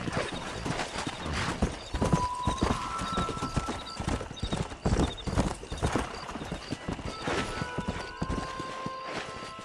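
A horse gallops in the Red Dead Redemption video game, with rapid loud hoofbeats pounding continuously and a whinny partway through.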